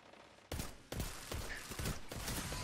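Enemies fire at the player in Destiny: a rapid volley of sharp gunshots starts abruptly and keeps cracking in close, irregular bursts over a steady background din, with no talking.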